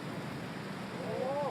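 A downpour falls across a golf course during a women's professional tournament, a constant moderate wash of rain noise with a brief whistling tone rising over it near the end.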